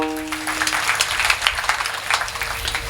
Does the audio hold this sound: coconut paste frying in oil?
no